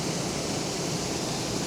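Waterfall at the point where two rivers meet, a steady broadband rush of falling water heard alone at moderate distance, even and unbroken.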